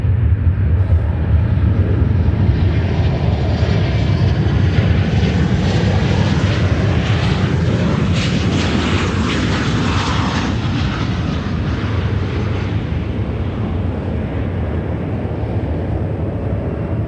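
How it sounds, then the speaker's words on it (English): A Boeing 737-900 airliner landing at O'Hare airport produces a loud, sustained engine roar with a swelling rush of noise around the middle as it passes, fading only slightly afterward. "737-900 coming in from Austin, Texas."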